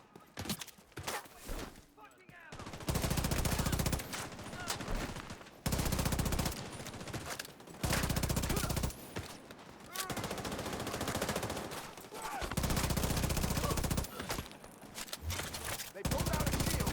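Sustained automatic gunfire from a Division 2 shootout in Brooklyn, long loud bursts of rapid shots separated by brief pauses, with game voices and noise in the gaps.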